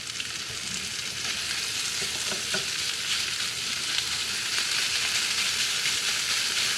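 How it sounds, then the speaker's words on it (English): Thin-sliced meat stir-frying with garlic and sesame oil in a hot pan, a steady close sizzle with occasional scrape and clack of a stirring utensil, no voices. "I put it in with garlic and a little bit of sesame oil."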